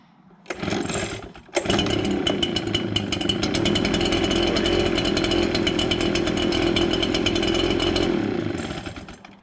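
An Echo PB-770 backpack leaf blower in a garden sputters briefly and then catches, settling into a loud, steady two-stroke drone held close for several seconds before it begins to fade.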